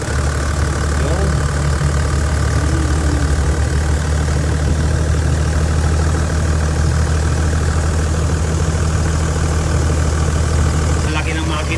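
A large engine idles steadily and loudly throughout while a vehicle's air conditioning is being recharged, a constant close drone with no change in pace.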